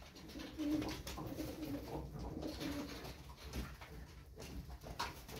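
Kuwaiti Miski pigeons with black wings coo in a loft, a group of birds giving low, repeated rolling coos close by, overlapping continuously over faint background rustle.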